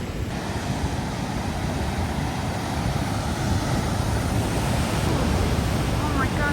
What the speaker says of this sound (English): Some massive waves.